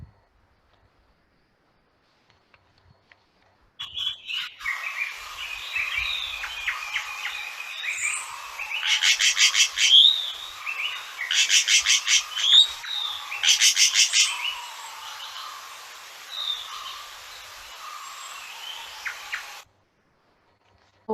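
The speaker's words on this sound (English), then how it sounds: "Oh, this barbet." A barbet calling in a home setting, harsh repeated bursts of rapid notes in several clusters, moderately loud and near against an otherwise quiet background with no talking.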